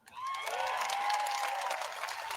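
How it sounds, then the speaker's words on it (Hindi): An audience at a political rally bursts into applause. The clapping swells in quickly and then holds as a steady, mid-distance wash for a couple of seconds. "ये अभी आप ताली जल्दी बजा गए"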